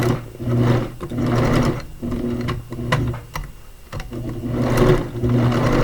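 A sewing machine tacks down elastic on a cloth diaper, running in rapid clattering bursts of stitches separated by short pauses, close and steady.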